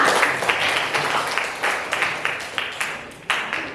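Students in a ninth-grade civics class clap together, a moderate, uneven patter with several sharper individual claps standing out, fairly close and continuing steadily throughout.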